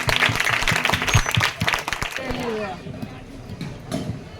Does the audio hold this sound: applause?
yes